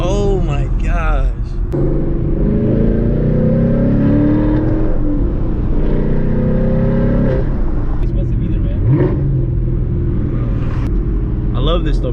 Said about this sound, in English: I'm barely hitting the gas and it revs so loud